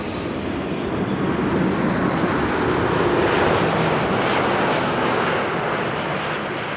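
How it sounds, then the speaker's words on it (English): Air Canada Flight 900 from Montreal arrives at Amsterdam Schiphol, a loud, continuous broadband airliner engine roar that swells slightly midway and stays steady with no voices. "Air Canada Flight 900, arriving from Montreal."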